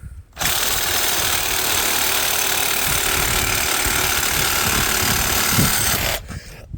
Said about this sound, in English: Figured the Sawzall was better for this.